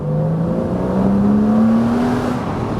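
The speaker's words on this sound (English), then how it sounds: "because it is a very high revving engine, it does sound brilliant" A high-revving Porsche Boxster S engine revs high and steady, its sustained tone climbing slightly in pitch before easing off, loud and close with no voices.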